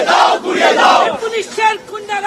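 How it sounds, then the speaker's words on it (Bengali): Crowd of BJP supporters chanting slogans at a street protest outside the DM office in Alipore, loud massed voices in rising, rhythmic bursts that thin toward the end. "তাদের স্লোগান চলছে"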